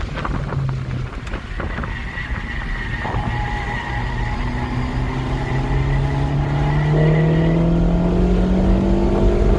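A 2017 VW Golf R accelerates around Eagles Canyon Raceway, its engine note climbing steadily in pitch through the run amid tire and wind noise, loud and close from inside the car, with no talking.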